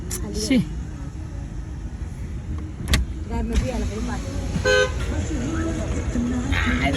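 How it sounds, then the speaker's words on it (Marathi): A car pulls up in busy roadside surroundings on a trip to Jejuri, its engine rumble mixed with traffic noise and a short horn toot, while people talk close by throughout. "ती गाडी आली आता."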